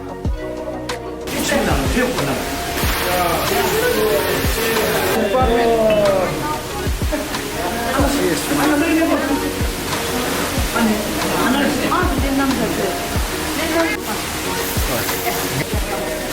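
Twin Falls waterfall at Panbang in Zhemgang, Bhutan, a steady broadband rush of falling water running continuously under a person talking throughout.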